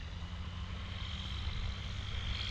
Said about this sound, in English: That's actually that plane we saw going over the head, that EV97 Eurostar.